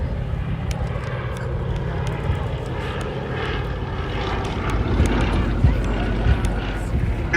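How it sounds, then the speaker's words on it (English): A P-51 Mustang comes in to land at the IWM Duxford D-Day anniversary airshow, its propeller engine a continuous rumbling drone that swells slightly near the end, with wind buffeting the microphone. "as the Mustang comes into land underneath"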